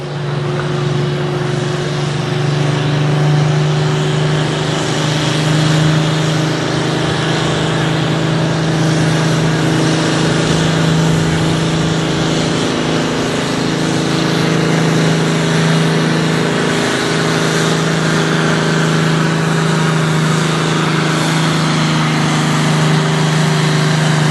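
A pulling truck at a tractor and truck pull in Langford, New York, its engine roaring loud and near for the whole stretch, a sustained heavy drone with a strong low hum and only slight shifts in pitch, with no talking.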